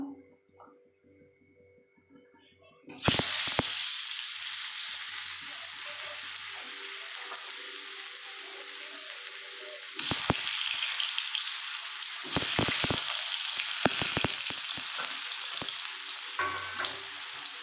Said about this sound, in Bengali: আমি এবার প্রথমে আলুগুলোকে ভেজে নেব